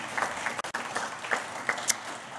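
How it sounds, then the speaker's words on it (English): A lecture audience at a business school book talk gives light, scattered applause, the separate claps clearly audible against a quiet room. "She deserves applause, trust me on that."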